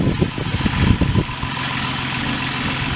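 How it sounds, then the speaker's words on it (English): Farm tractor engine running outdoors, a loud steady idling rumble with faint knocking in the first second, continuous and near. "the tractor's out here and it's running right now"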